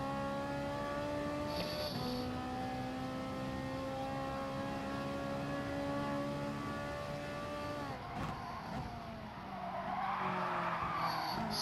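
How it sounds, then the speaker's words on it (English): A GR3 race car in a racing video game slides around a corner at Dragon Trail Gardens, with tires squealing over a droning engine whose pitch sags as it scrubs speed, followed by a hiss of skidding; no one speaks. "Skidding around the corner again, that's going to take too much speed off"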